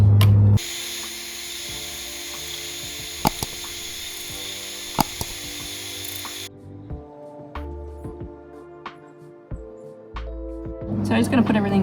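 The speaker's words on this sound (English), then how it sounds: "So I'm just about to give it a light hone." A honing tool turns inside the bore of a Toyota Hilux brake master cylinder, a high whirring power-tool whine for several seconds with clicks, then stopping and leaving quieter mechanical handling sounds.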